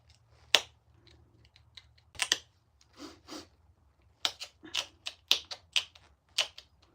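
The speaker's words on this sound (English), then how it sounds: "Pressure flaking is very controlled and less likely to break it." Flint being pressure flaked to notch a stone point: a string of sharp, crisp clicks and small snaps, irregularly spaced and close, with no talking.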